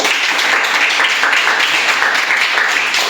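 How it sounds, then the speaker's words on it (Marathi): Schoolchildren at a village primary school quiz clap for a participant, giving a dense, even burst of applause that holds steady throughout. "हर्षदा तुझी परत टाळ्या वाजवायचा आहे"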